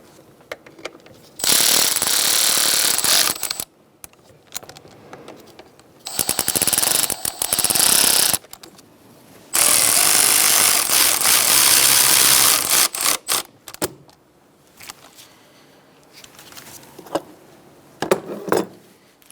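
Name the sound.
ratchet tightening radiator filler neck bolts, Hyundai Accent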